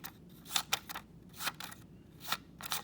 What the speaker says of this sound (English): take your scissors and start to snip some skinny fringe like this